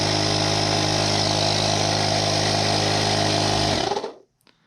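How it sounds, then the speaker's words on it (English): Cordless tire inflator air compressor running with a loud, steady, close buzzing motor hum for about four seconds, then switching off and falling quickly to near silence, with a couple of faint clicks after. "And you just simply turn the power button on, which activates it. And then you can turn on the compressor."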